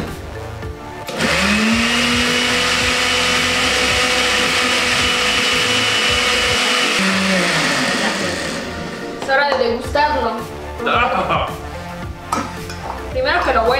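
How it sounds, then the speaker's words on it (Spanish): Kitchen blender whirring through a chocolate smoothie: a loud, steady motor whine runs for about seven seconds, then winds down as people start talking and laughing. "Vamos a licuar."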